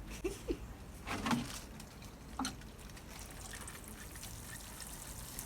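Water poured over homemade compost soil to soak it, a few short splashy pours near the start then a softer steady trickle, close by with no talk.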